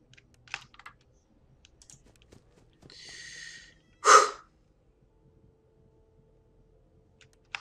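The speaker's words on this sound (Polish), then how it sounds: "Tak, to był oddech przerażenia." A single sharp frightened gasp while playing FNAF 4 in a quiet room, preceded by soft keyboard typing and clicks.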